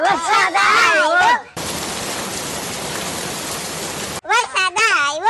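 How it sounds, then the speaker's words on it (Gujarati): A steady, loud rush of rain fills a few seconds of a Gujarati comedy sketch, starting and stopping abruptly between stretches of people talking. "વરસાદ આવ્યો, વરસાદ આવ્યો."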